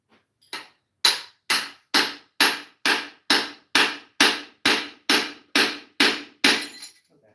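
Hammer tapping a stuck rod on a rusty part: about a dozen sharp, evenly spaced metallic strikes roughly every half second, close and loud, each ringing briefly before the next.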